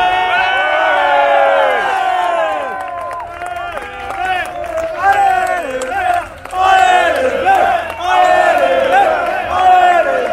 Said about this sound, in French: D'arriver sous les applaudissements des supporters.